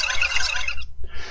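A brief bright whooshing podcast segment transition sweep that cuts off abruptly, followed by a softer shimmering tail, over a low steady hum; no voices.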